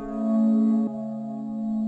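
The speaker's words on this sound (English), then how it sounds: "you want to put a little bit of fast distortion on it" Dark trap loop with fast distortion gives a sustained, buzzy synth tone that holds one pitch, then shifts to a second note. It is short and alone.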